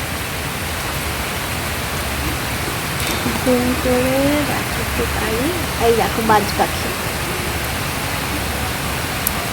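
Steady, dense rain hisses throughout while someone talks over it in the foreground.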